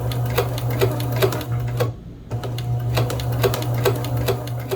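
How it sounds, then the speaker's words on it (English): A sewing machine stitches bias tape piping over cotton cord as trim for a Regency-style sleeveless spencer jacket: a steady motor hum with rapid needle clatter, close and loud, pausing briefly partway through and then resuming. "then just sew this as close to the cotton cord as possible"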